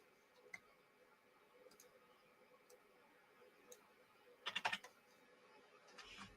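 Typing on an aging computer keyboard, faint scattered keystrokes with a short quick burst of clacks near the end, quiet and close with no talk.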